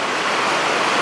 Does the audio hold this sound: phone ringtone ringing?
no